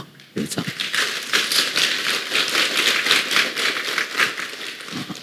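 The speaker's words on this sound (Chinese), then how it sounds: "我们用一个热烈的给大家鼓掌啊" An audience at a Buddhist dharma assembly breaks into applause. Dense, steady clapping rises abruptly and holds at an even, fairly close level for several seconds.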